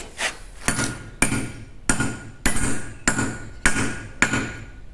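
A hammer drives steel wedges into sedimentary stone, ringing out in about eight evenly spaced, loud metallic blows with short decays, close and alone with no talk.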